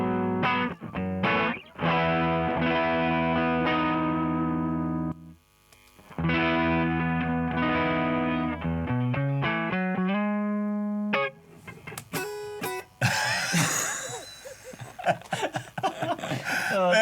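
Electric guitar, a Strat, played through a Klon-style overdrive pedal: sustained driven chords and notes, then a busier run of picked notes near the end, loud and up front.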